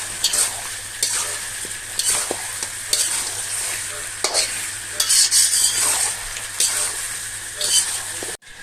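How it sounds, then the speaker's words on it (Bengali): Chicken masala sautés in a pan while a spatula scrapes and stirs in regular strokes over a constant loud sizzle, with a low hum underneath. "এটাকে আমি সুন্দর করে কষিয়ে নিচ্ছি"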